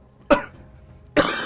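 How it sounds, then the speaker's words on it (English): Two sharp, close coughs about a second apart after eating a spicy hot chicken wing, each a brief harsh burst, with quiet in between. "this is one of the ones where they always cough"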